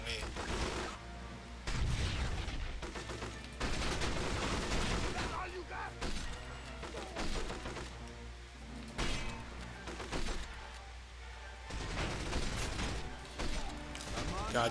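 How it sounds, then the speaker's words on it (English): Gunfire and explosions in the James Bond 007: From Russia with Love video game, with rapid bursts of shots and heavy blasts over a busy, dense battle soundscape, while someone talks over it. "Oh no, they're shooting at me."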